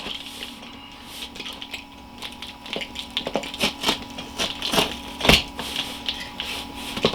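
A blade slicing open the cardboard box of a folding 4-inch foam mattress, close scratchy tearing strokes and crinkly rustles in short, uneven bursts, growing louder toward the end.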